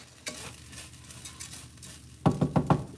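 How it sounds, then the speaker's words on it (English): About 3.5 cups of rice saute in olive oil in a pot, with a soft sizzle, then a burst of scraping stirs near the end, loud and close, with no talk. "So I'm just sauteing it in that olive oil."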